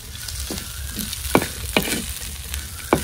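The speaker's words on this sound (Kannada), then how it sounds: "ಸ್ವಲ್ಪ ಈ ಥರ ರೋಸ್ಟ್ ಮಾಡಿದ್ರೆ ಆಯ್ತು" Urad and chana dal roast in a hot pan with a steady, close frying sizzle, broken by a few sharp scrapes and clicks of stirring at irregular intervals.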